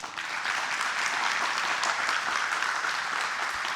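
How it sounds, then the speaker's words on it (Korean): A church congregation gives a steady round of applause in encouragement at a Sunday worship service, a dense wash of many clapping hands that holds at an even level for several seconds with no voices over it. "수고의 격려의 박수 한번."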